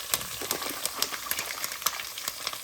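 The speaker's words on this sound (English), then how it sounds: "So after the garlic, we're gonna add the onions, the peppers," Onions and peppers hit a pan with garlic for ackee and saltfish, giving a close, soft sizzle broken by scattered clicks and scrapes of stirring throughout.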